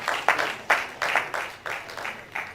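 At an ICT conference, an audience claps in a loose, uneven rhythm of separate claps, fairly quiet and a little distant, each clap sharp and then decaying.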